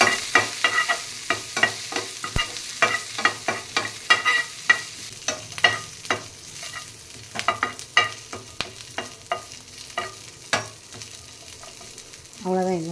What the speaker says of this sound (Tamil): லைட்டாக தான் போட்டு இப்போ வதக்க போகிறேன்.